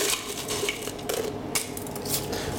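Crushed ice added for a mango gazpacho, a close cluster of clinks, rattles and crunchy clatter against a bowl, irregular and busy for a couple of seconds.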